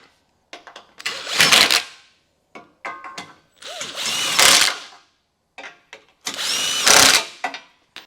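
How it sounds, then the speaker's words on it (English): A power tool with a 17 millimeter socket snugs up the bolts of a hidden hitch rack receiver on a 2023 Audi, giving three loud, close bursts of whirring and ratcheting separated by short pauses. "Now I'm just going to snug these up with a 17 millimeter socket."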